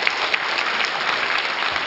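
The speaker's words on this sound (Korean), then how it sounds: "여러분 박수를 한번 청해보도록 하겠습니다." Brief burst of audience applause at a televised city forum, a dense, even wash of clapping from a seated crowd, close and steady without pauses.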